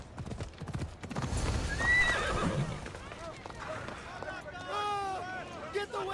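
In the video game Assassin's Creed Odyssey, a horse's hooves clip-clop over ground and a horse whinnies, with a voice speaking and faint crowd murmur around it.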